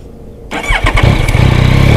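A Yamaha Tracer 9GT motorcycle engine starts: after a quiet low hum the starter cranks briefly, then the engine catches and settles into a loud, steady, close-up idle.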